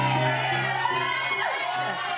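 A crowd of people shouts and cheers continuously, a dense wash of many overlapping voices with some higher calls rising above it, loud and steady throughout.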